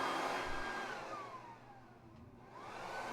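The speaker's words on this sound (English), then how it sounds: "I'm gonna minimize the vacuum sound as much as possible," A household vacuum cleaner runs steadily and loudly throughout, its motor whine holding a constant tone with a slight dip in pitch midway, and no voices over it.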